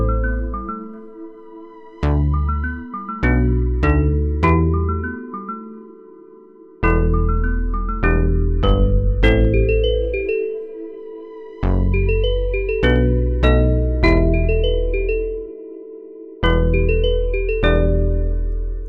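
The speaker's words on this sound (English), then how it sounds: "After that, we've got the bass, which sounds like this." A deep bass line from an FL Studio UK Afro swing beat plays alone in short plucked phrases, notes decaying quickly between rests, in a bouncy, syncopated rhythm that repeats over the loop.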